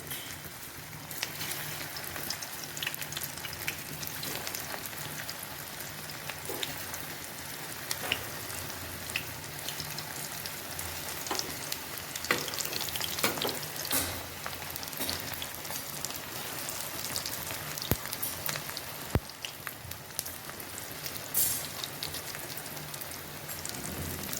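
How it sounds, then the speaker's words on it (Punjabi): Potato and rice flour tikkis shallow frying in hot oil give a steady, crackling sizzle with scattered pops and short spits, moderately loud and close. "ਤੇਲ ਆਪਣਾ ਗਰਮ ਹੋ ਚੁੱਕਾ ਹੈ ਹੁਣ ਟਿੱਕੀਆਂ ਨੂੰ ਇਸ ਵਿੱਚ ਪਾਵਾਂਗੇ ਇਸ ਨੂੰ ਆਪਾਂ ਹਲਕਾ ਹਲਕਾ ਸ਼ੈਲੋ ਫਰਾਈ ਕਰਾਂਗੇ"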